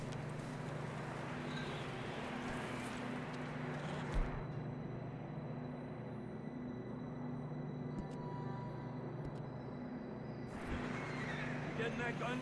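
Horses neigh and whinny in the video game Red Dead Redemption 2, heard under steady game ambience with low engine-like hum, a soft ongoing bed of sound with talk layered over it.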